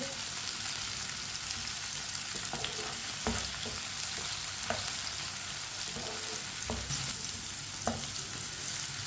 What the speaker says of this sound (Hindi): कटा हुआ टमाटर, 3 सब्ज़ मिर्च बारीक कटी हुई। 1 मिनट के लिए पका लेंगे।